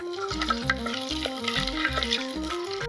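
Dried red chillies and curry leaves sizzle and crackle in oil for tempering throughout, a busy hiss beneath a steady background melody.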